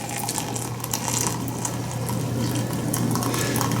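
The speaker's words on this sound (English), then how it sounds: "I'm going to pour half a glass full here." Hot water is poured into a glass holding a glob of shilajit resin on an upside-down spoon, making a close, steady gurgling trickle with a low hum underneath.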